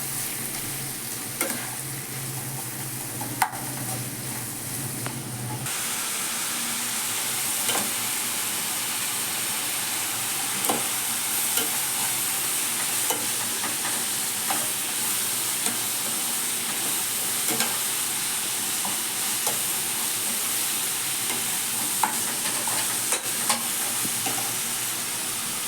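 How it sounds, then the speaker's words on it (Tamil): Onions fry in hot oil for a prawn gravy, giving a steady, loud sizzle throughout with occasional scrapes and clinks as a spoon stirs the pan; close, with no talk. "வெங்காயம் நல்லா செவந்து பொன்னிறமாக வதக்குங்க"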